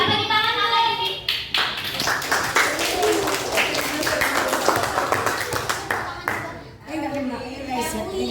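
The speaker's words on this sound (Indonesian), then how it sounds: "Kasih tepuk tangan apa ini?" Junior high school students clap their hands together at an anti-pornography awareness session, a busy, uneven round of claps mixed with chatter and voices throughout.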